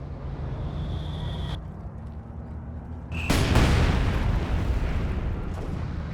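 Artillery and mortar fire in Company of Heroes 2 battlefield, a steady rumbling background with a sharp, heavy blast erupting midway and ringing out into a long, loud roar, with no talking.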